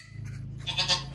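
A baby miniature goat on a farm gives a short, high bleat that is loud and close, with a steady low hum underneath.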